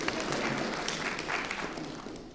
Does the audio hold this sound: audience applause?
yes